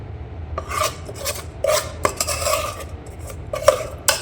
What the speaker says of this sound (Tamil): இந்த மாதிரி மீன் மசாலா நல்லா மிக்ஸ் பண்ணிக்கங்க